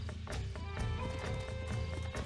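An Appaloosa horse in the video game Red Dead Redemption clip-clops on its hooves in a steady rhythm and whinnies, close and loud, over a busy game soundscape with no speech.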